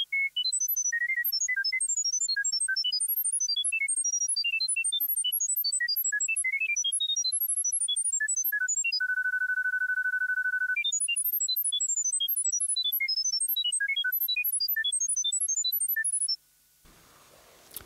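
Skylanders Imaginators Creator app transfer tone: a long electronic sequence of rapid high chirping bleeps in scattered melodic runs, with a sustained steady tone midway, loud and alone without talk.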